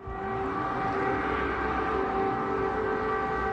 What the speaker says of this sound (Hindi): हवाई हमले की चेतावनी देने वाला एयर वार्निंग अलार्म लगातार बजता रहा